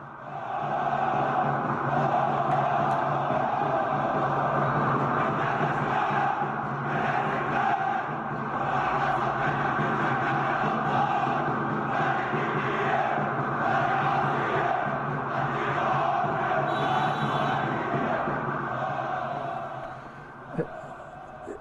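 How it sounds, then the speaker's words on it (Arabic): A large football stadium crowd at an Al Ahly match roars and chants continuously, a dense sustained wall of voices throughout. "احنا نسمع الناس صوت الجمهور والهتاف بتاعه؟"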